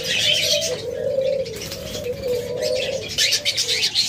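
Caged pet birds such as budgerigars, cockatiels and lovebirds kept for sale give continuous chirping and cooing calls that sound close and fairly loud, with busy high twittering over low coos throughout.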